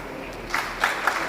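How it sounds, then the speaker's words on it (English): A crowd at a high school memorial presentation breaks into a short round of applause, a few distinct claps standing out over a soft wash of clapping. "Kodak moment, a round of applause, so richly deserved."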